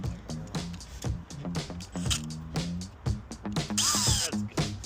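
A power drill drives screws into pre-drilled holes in a porch rafter during construction of a covered porch with clear roof panels, giving repeated short whirring bursts that stop and start, close and fairly loud, ending in a sharper high-pitched run.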